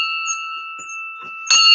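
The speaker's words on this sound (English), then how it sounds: "So let's do the train bell." A train bell rung once at the start, its steady metallic tone sustaining and slowly fading, then struck again near the end with a louder, brighter ring; no talking.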